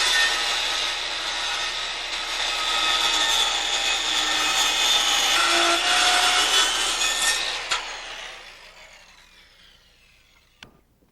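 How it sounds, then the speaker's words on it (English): A saw, likely a power circular saw given the 1987 roof framing setting, cuts a compound miter through a 2x6 framing board: a loud, steady broadband whine for about seven seconds that trails off as the blade spins down, ending with a sharp knock. "Here Peggy adjusts the blade to the scribe marks on the 2-inch side of the board, then cuts along the second mark on the 6-inch side"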